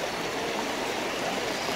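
Broadband rushing of the Bright River in the Great Vert Canyon, heard during a crossing, a steady close wash of flowing water with no break across the short stretch.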